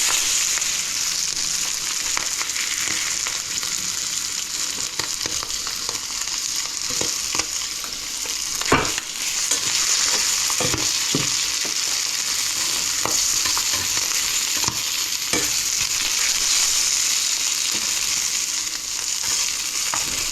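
Onions and garlic fry in a pan for a donburi dish, giving a steady, close sizzle with scattered clicks and scrapes of stirring throughout. No one speaks.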